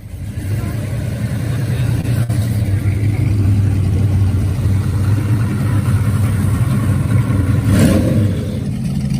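A car with a factory V6 VG35 engine revs at a show, a loud sustained low rumble with a brief swell near the end, steady and close.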